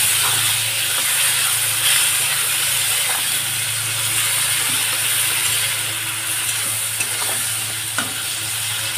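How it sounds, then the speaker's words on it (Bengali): Shrimp frying in a pan with onion, dried chili and black cumin, a steady close sizzle with intermittent scraping stirs and clicks, no talking. "চিংড়ি মাছগুলো এর মধ্যে এইভাবে দিয়ে দিলাম। দিয়ে একটু হালকা হাতে আমি ভেজে নেব পেঁয়াজ আর এই শুকনো লঙ্কা আর কালো জিরের সাথে"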